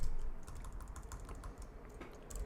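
Rapid, steady keystrokes on a computer keyboard while entering a Node.js npm install command, close and clear with no voices over the continuous clicking.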